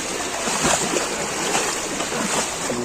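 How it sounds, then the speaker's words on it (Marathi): Knee-deep floodwater fills a street in flooded Chiplun, Konkan, and it sloshes and swirls continuously nearby as someone wades through, with a broad rushing wash and no talking. "इथं पूर्ण आता गुडक्यापर्यंत पाणी येतोय"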